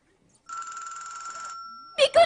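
A pink public telephone rings in one electronic burst for about a second, clear and close, then brief speech follows.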